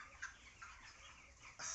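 Broiler chickens about 32–33 days old on a poultry farm cluck faintly in a few short, scattered calls over a quiet background.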